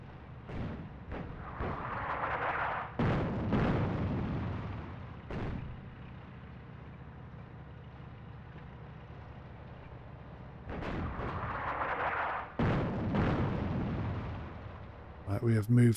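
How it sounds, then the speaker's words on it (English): Heavy tank and artillery fire booms through a North Africa battle in a real-time strategy game, repeated loud blasts and rumbling bursts spread across the scene, with someone talking over them. "These panzers, unsurprisingly, are absolutely ripping us apart"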